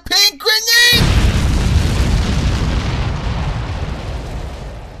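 A cartoon pink grenade detonates with a loud boom after brief voices, the blast's rumble rolling on and slowly fading over several seconds.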